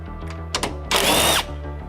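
Power tool driving out M6 bolts with an 8mm socket while removing the grille trim on a Ford Raptor, Ranger or Everest: a brief buzz, then a louder, sustained whirring burst lasting about half a second, close up, with no talk.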